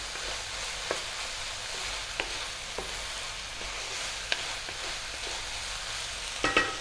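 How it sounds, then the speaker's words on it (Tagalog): Ground pork with chili stirred in a frying pan for a Filipino coconut pork dish, a steady soft sizzle with a few light scraping knocks of the spatula, heard close and alone. "haluin ko lang sandali"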